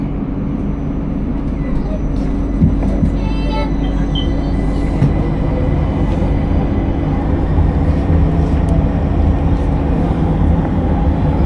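A Jakarta LRT Jabodebek train on the Cibubur Line pulls away with a steady rolling rumble and a rising electric whine, heard loud from inside the car, with a brief chime partway through and a recorded announcement over the noise.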